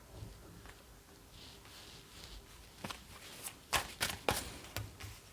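Tarot cards rustle quietly, then a run of crisp slaps and snaps sounds as the deck is shuffled and cards are drawn, growing louder toward the end in an otherwise quiet room.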